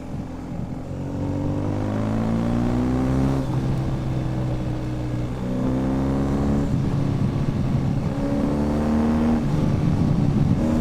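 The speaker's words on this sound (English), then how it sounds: "It actually revs up a bit higher than you'd expect." A 2021 BMW R1250 GS TE motorcycle engine revs steadily through several gear pulls, pitch climbing and dropping in waves, loud and close with no voices.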